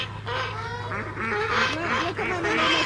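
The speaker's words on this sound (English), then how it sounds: "You're all honking now." Several Muscovy ducklings honk and peep in overlapping calls close by, steady and loud throughout with a low hum beneath.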